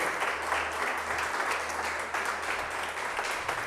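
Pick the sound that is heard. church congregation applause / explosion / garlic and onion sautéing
church congregation applause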